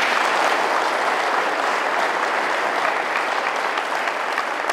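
A crowd at the inauguration of two new industrial buildings in an industrial park applauds steadily, dense clapping that holds at an even, fairly loud level throughout with no voices standing out.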